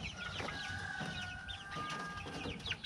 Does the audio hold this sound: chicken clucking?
yes